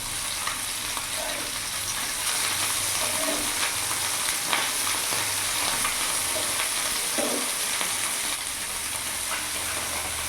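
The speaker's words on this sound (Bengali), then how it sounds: "মাছটা একটা আমার ভাজা হয়ে গেছে, আমি সব মাছগুলো উল্টে দিচ্ছি।" Khoira fish fry in hot oil in a pan, a constant, fairly even sizzle with a few faint clinks and scrapes as pieces are turned over, near and without talk.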